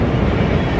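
Expedition Everest roller coaster train at Animal Kingdom rumbles in the background, a broad, steady low roar with no distinct beats over the short span.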